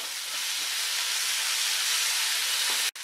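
Maggi masala noodles with a spoonful of chili sauce sizzling in a pan as they are mixed, a steady loud hiss throughout with faint scraping, cutting off briefly near the end.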